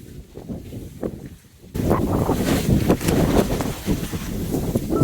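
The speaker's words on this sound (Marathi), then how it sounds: "वाऱ्याचा जोरदार प्रवाह होता" Strong wind sweeps across a campsite on Padargad, a mountain fort, starting as a quieter gust then buffeting the microphone in a loud, continuous rush.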